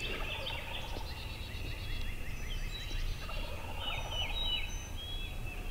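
Wild turkey gobbling from a distance at sunrise on a hardwood ridge, a young jake among at least two birds, repeated rattling gobbles carrying across open country with no talk.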